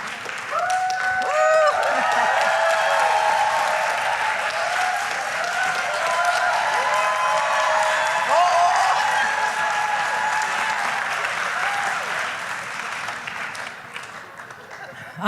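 Church congregation applauding during a French-language sermon by a woman preacher, a broad steady wash of clapping sustained for about fifteen seconds with voices and cheers mixed in, tapering near the end.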